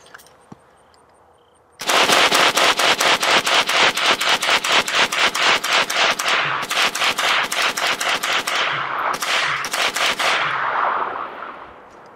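A Century Arms AK63D, an AK-47 variant, fires a long unbroken burst of full-auto rounds, loud and close, a rapid steady rhythm with brief gaps near the end as the firing trails off; no talking.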